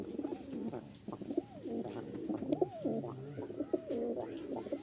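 A white-beaked male homing pigeon coos repeatedly in a steady rhythm of rising and falling calls, close and clear, with a few faint chirps in the background.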